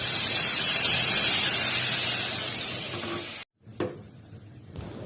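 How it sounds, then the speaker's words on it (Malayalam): Tamarind water pours into a hot tempering pan for a Kerala sardine curry, giving a loud, steady hissing spray that runs for several seconds, cuts off abruptly, then resumes as a quieter bubbling sizzle. "ഈ വറവിലേക്ക് പുളിവെള്ളം ഒഴിക്കുക"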